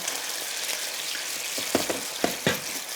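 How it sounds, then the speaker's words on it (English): Rice wine vinegar bubbling up hard around gyoza dumplings in a hot pan, a steady broadband hiss of sizzle with a few sharper pops and spatters near the end. "add in rice wine vinegar. It's gonna boil up."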